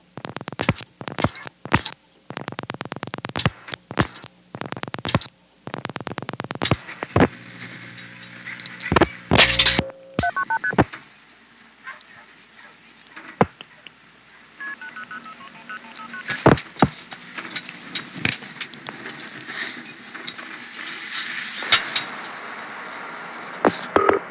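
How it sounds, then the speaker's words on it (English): A 1974 electronic switching phone system in Wellfleet, Massachusetts dials an 800 charge test call. A rapid burst of loud dialing tones plays first, then a steady tone, then scattered clicks and fainter tones over line hiss. "Now I'm going to dial an 800 charge test that'll flash 1 800 4210159."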